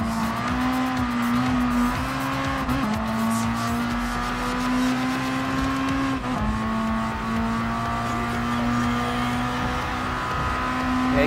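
Amuse S2000 GT1 Turbo tuner car racing at night on the Tokyo Highway in Gran Turismo Sport, its turbocharged engine droning loudly and steadily throughout, with pitch rising through the gears and a brief tire squeal.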